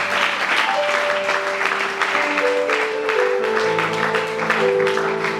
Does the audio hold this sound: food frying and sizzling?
no